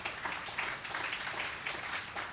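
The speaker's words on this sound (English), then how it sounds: "please join me in applauding the panelists for their really insightful" An audience at a conference panel on Russia's digital future applauds the panelists, a steady spread of many hands clapping at moderate loudness without a voice over it.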